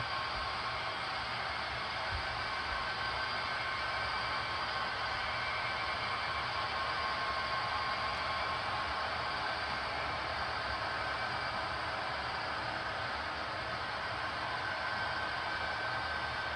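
A model train rolls past on a layout, a steady unbroken rushing rumble that holds level throughout, with no talking.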